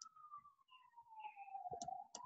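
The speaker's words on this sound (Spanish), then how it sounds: "ahí se escucha una ambulancia" An ambulance siren passes outside, faint and distant, one long wailing tone gliding slowly downward, with a few soft thumps from the room.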